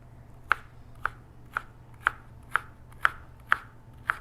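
A knife chops an onion on a cutting board in a kids' cooking lesson, eight crisp, evenly spaced knocks about half a second apart, close and clear over a quiet room.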